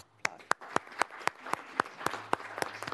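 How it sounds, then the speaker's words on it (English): Brief applause in a state House hearing room during a children and family subcommittee session: sharp, evenly spaced claps at a steady quick rhythm, fairly faint and slightly distant, with no talking over them. "So let's give him a nice applause."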